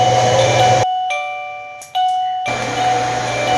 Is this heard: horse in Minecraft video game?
no